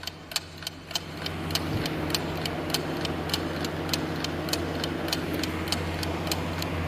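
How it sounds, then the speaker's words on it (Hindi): Steady mechanical clock ticking, a regular run of sharp evenly spaced ticks lasting the whole stretch over a low constant hum, close and moderately loud with no talk. "सुनिए घड़ी की आवाज़"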